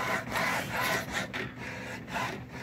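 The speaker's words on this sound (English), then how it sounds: "Well, this is printing." An HP OfficeJet Pro 8610 inkjet printer runs a print job, its print head sweeping back and forth in a steady rhythm of rasping passes, close and moderately loud, with no talk.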